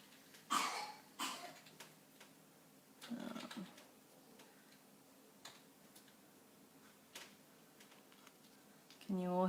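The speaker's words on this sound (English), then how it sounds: "Can you all hear my son coughing?" A young boy coughs in a quiet indoor room during a craft session, giving several short, sharp, separate bursts spaced a second or more apart, fairly close and soft, with light ticking and faint background talk between them.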